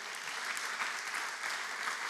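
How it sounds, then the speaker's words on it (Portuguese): Congregation clapping during a church service, a brief burst of dense, bright applause from a crowd, steady and fairly close with no voices over it. "dê uma salva de palmas para o Senhor"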